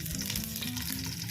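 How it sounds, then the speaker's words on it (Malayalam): Oil left over from frying onions sizzles loudly and steadily in a hot pan, a close continuous crackle with no voices, ready for biryani rice. "അതിലേക്ക് നമ്മൾ സവാള വഴറ്റിയ എണ്ണ ഉണ്ടല്ലോ, ആ എണ്ണ ചേർത്ത് കൊടുക്കാം"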